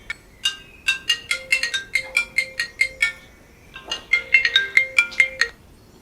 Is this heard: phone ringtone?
yes